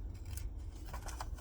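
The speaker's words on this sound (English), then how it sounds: "I'm going to take my scissors, and I'm just going to keep on going with the slant there" Scissors snip through a paper bank envelope at a slant for a journal, a few quick close crisp cuts over a soft low background hum, no talk.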